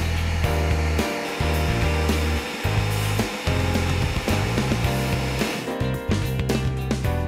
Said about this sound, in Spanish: Ahora lo vamos a licuar.